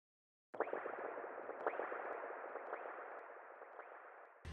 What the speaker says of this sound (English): It's kind of just weird bubbly sound, spacey sound. I added some echo, like this.